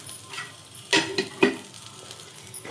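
Chilli powder stirred into a sizzling tempering in a pan for flattened-rice tiffin, with a steady low sizzle and a few sharp spoon-on-pan scrapes and clinks, close and without talk.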